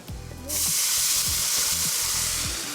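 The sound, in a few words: pan sauce flambéing in hot pan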